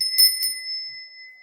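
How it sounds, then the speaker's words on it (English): A sacred Balinese clearing bell is struck twice in quick succession, leaving a bright, pure metallic ring that sustains and slowly fades in a quiet room. "this is a Balinese clearing bell"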